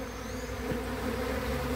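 A honeybee swarm buzzing at a hive, a dense, steady droning hum of many wings close by, continuous and fairly loud with no talking.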